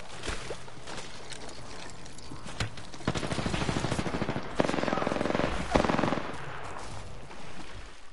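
Automatic gunfire in a multiplayer shooter video game, bursts of rapid shots and clattering effects across the clip at moderate level, with no speech.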